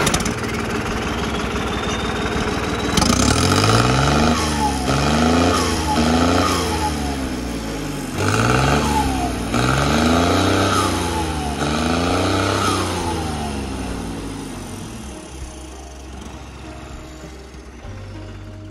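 A modified 2005 New Holland 3630 tractor's engine cranks, catches after about three seconds, and revs up and down several times in rising and falling sweeps before settling to a lower idle. It is close and loud, with no talk over it.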